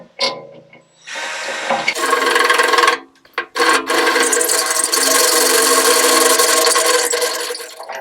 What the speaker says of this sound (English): This is a brand new drill bit, so it's not like it's dull.